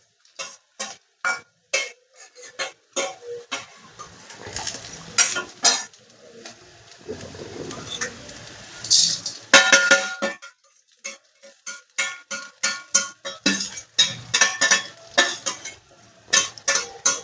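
Dry spices such as coriander and fennel being roasted in a pan for Goan-style chicken xacuti, with a spoon scraping and clattering against the metal in quick, uneven strokes and a short soft rustle midway.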